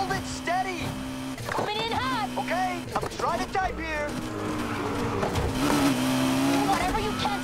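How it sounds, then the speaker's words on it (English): A red Porsche races in a police pursuit in Need for Speed Heat, its engine roaring and tires squealing throughout at close range, with radio chatter and voices talking over the driving. "suspect vehicle is a red Porsche heading south from Cloud Bank into Edgewood Valley"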